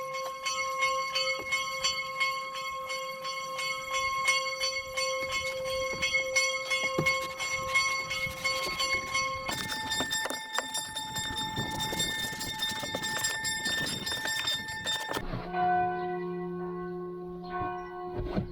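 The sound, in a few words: bells ringing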